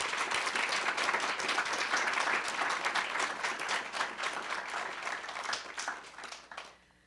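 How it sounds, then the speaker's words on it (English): An audience at a literary journal launch claps in a sustained, dense round of applause that holds steady, then thins and fades out near the end. "Let's give her a round of applause."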